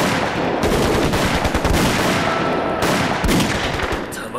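Loud, sustained machine-gun and rifle fire rattles through a war-film battle between Eighth Route Army fighters and Japanese troops, with rapid bursts and overlapping shots filling the whole stretch and no voices on top.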